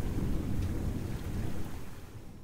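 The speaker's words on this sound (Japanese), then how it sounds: "さっきのあのバカでかい雷が多分あれなんだろうな" Thunder in the Touhou Mystery Dungeon video game rumbles deep and heavy over steady rain, a rolling, continuous roar that stays fairly close for the whole stretch.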